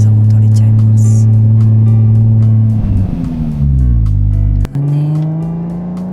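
A car drives along with a 360 camera on a rear car mount, its engine a loud, steady drone that dips and shifts midway, then settles back into a smooth cruise.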